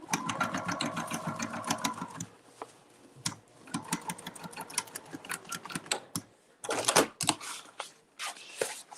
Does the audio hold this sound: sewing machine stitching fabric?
yes